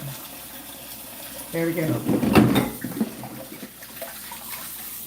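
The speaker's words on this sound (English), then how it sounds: "we're going to rinse off this celery" Kitchen tap water splashes over celery being rinsed. A brief gush swells in the middle and then fades, with a voice speaking over it.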